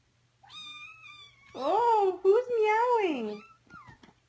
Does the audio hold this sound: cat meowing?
yes